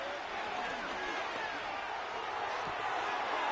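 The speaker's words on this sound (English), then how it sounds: "the crowd getting into it as we come up on a big 3rd down" Stadium crowd noise in a football video game, a steady, broad roar of fans building ahead of a big third down, with commentary voices murmuring over the constant wash of cheering.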